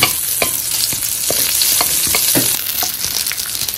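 Onions fry loudly in a pan as the base for kare-kare, a strong close sizzle with frequent quick stirring scrapes throughout.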